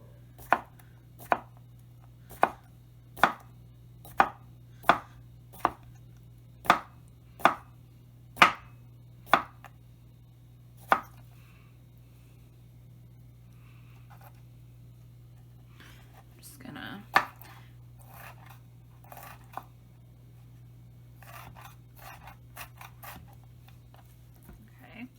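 A knife chops a pickle on a cutting board in about ten sharp, evenly spaced strokes over a low steady hum, then a few softer clicks and clatters follow.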